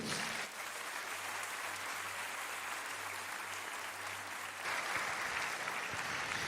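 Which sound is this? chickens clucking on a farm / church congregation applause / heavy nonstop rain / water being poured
church congregation applause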